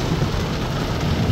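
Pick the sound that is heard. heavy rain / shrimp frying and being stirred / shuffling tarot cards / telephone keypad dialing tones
heavy rain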